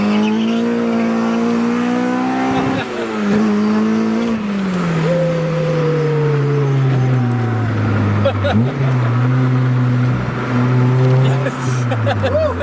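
A K24-swapped Honda car accelerating hard on the road, heard from inside: a loud engine drone climbing in pitch through the revs, with a gear change around midway, then pulling hard again, with people talking over it.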